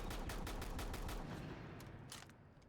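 Rapid shotgun fire in the game Rainbow Six Siege, a quick run of close, sharp blasts that trails off into a few scattered shots, with no talking.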